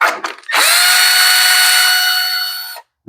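A power tool spins off a 10 mm bolt on an Earthquake Versa tiller, a brief handling knock, then a loud steady whine of over two seconds that cuts off abruptly.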